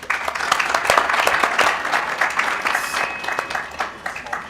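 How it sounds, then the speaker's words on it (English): Audience applause for the panelists at a healthcare innovation summit, a burst of close, crisp clapping that swells early and thins out toward the end. "Let's give them a round of applause."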